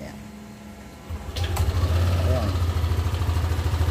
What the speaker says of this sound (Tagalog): Yung tunog ng makina niya.